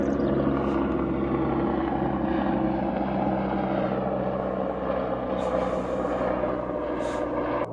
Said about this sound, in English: I think it's a helicopter coming literally right over the top of us.